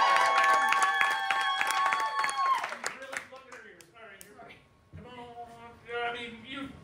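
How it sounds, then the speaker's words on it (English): An audience at an improv comedy night cheers and applauds loudly at first, then the crowd noise thins out as voices talk over it. "let's cheer really loud"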